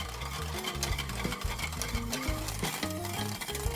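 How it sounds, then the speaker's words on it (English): Banana pudding custard is stirred steadily in a pot on a stovetop over medium-high heat, with continuous soft scraping and faint clinks against the pot, and a low hum running underneath. "I'm constantly stirring to keep it from scorching."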